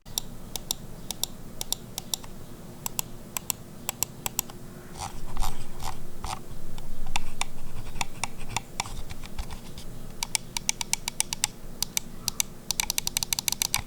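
Vancer Thrash mechanical keyboard switches clack in quick bursts of close typing, with a fast flurry of keystrokes at the end and no talking.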